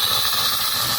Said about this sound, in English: and now the steam is coming.